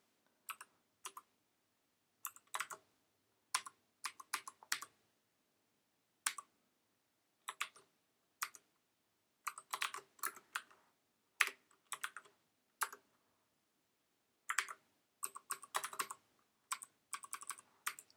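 Typing on a computer keyboard while building a Vim macro, with bursts of quick, crisp key clicks separated by short pauses, close and fairly quiet, with no talking.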